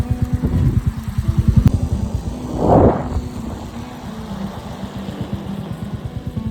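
A motorcycle engine putters steadily at close range on a ride near Tung Fort, Lonavala, a low rhythmic thrum that swells briefly with a rushing burst before settling back to an even idle-like beat.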